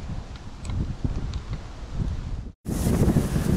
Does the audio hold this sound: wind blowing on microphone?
yes